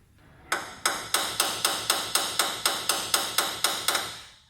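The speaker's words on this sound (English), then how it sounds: "because the tapping will make it to grab on that broken bolt from inside." A hammer taps a stuck broken bolt in quick, evenly spaced metallic strikes, about fourteen sharp ringing hits in a row, close and clear with no talking.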